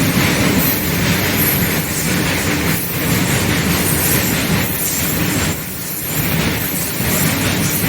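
A freight train rumbles past close by on a freight line near Trichy Fort, India, loud and continuous, with steady rolling wheel noise and clanking that never lets up.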